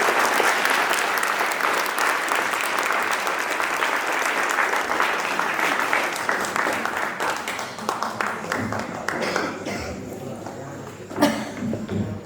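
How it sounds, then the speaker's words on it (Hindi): A school audience at a winner announcement for a biology and social studies debate claps in dense, sustained applause that thins out toward the end into scattered claps. "आइए ताली बजाएं आफ्ताब सर के लिए।"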